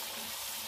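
A steady, dense sizzle of yogurt and masala frying in a hot pan, continuous and close, with no voices.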